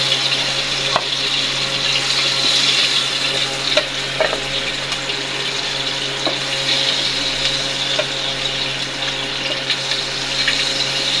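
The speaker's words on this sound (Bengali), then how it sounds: "ইলিশ মাছগুলো ভাজা হয়ে গিয়েছে," Hilsa fish frying in hot oil in a home kitchen, a steady loud crackling sizzle with occasional sharp pops throughout, no talking.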